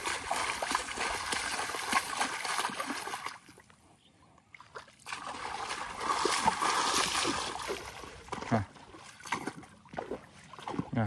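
A horse splashes about in water in a ditch, with repeated sloshing and splattering that is loud and continuous, dipping into a brief quieter lull midway before the splashing picks up again.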